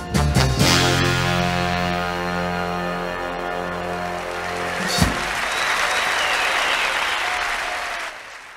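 Loud, dense applause from the crowd on a live recording, bursting out at the end of a song whose final held notes are heard first, then sustained clapping that continues steadily.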